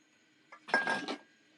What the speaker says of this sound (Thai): เสร็จปุ๊บก็เอากาแฟผสมกาแฟที่เราชงไว้แล้วผสมลงไป